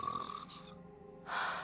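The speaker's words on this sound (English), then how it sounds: "Her weapon is just her snoring." Character snoring in Goddess of Victory: Nikke, breathy nasal snore tones with a rising whistle, a pause, then another loud intake of breath, close and alone.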